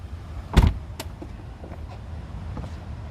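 A Mercedes-Benz door shuts with a solid thump, followed by the faint whir of the power windows closing automatically, close and brief.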